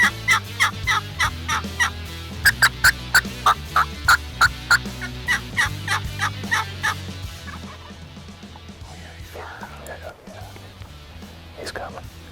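Wild Rio Grande turkey gobbling in a Texas hunting setting: a long run of rapid, loud, evenly spaced gobbling bursts up close, fading after several seconds into quieter background rustle.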